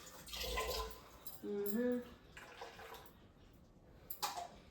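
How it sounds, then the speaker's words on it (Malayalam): Tap water runs and splashes as a jar that held buttermilk is rinsed at a kitchen sink, with close, gentle bursts of flowing water and a brief squeaky tone in the middle. "ഇതിവിടെ ഇരിക്കട്ടെ നമ്മൾ കഴുകി വെക്കാം"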